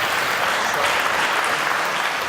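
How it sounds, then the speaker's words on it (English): A conference audience at re:publica 2014 breaks into sustained applause after a talk, a thick, continuous roar of many hands clapping at once, loud and unbroken across the whole stretch. "Applause."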